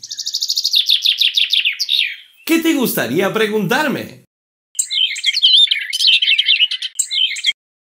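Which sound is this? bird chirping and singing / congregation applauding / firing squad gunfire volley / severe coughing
bird chirping and singing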